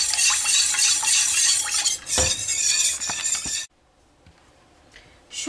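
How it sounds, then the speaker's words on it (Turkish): A spoon stirs egg yolks into a magnolia pudding mixture in a pot, brisk scraping and clinking strokes close up that run continuously, then stop abruptly partway through, leaving near silence with a few light taps. "2 tane yumurta sarısını ilave ediyorum. İyice karıştırıyorum."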